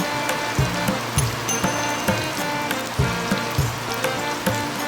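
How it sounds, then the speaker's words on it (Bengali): Hog plums fry in a pan with salt and turmeric; a soft sizzle runs beneath regular scraping stirs that repeat about twice a second, close by. "এবারে এই লবণ হলুদটাকেও সব কিছুর সঙ্গে ভালো মতো মিশিয়ে নিয়ে আরও কিছুক্ষণ ভেজে নেব"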